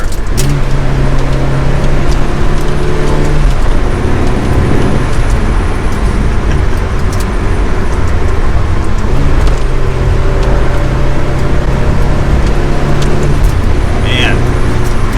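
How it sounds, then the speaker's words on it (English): A Ferrari 360 Challenge Stradale engine drones loud and constant while driving, a dense roar with steady harmonic tones that shift slightly as the revs change, and a voice speaking over the noise. "Not much to talk about since it's a very loud car."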